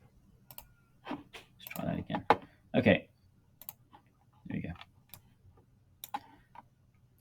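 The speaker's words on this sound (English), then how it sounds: "You can right click your mouse" Sharp clicks of a computer mouse, scattered singly and in quick pairs at close range, mixed in with someone talking.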